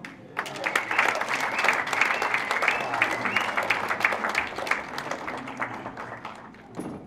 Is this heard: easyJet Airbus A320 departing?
no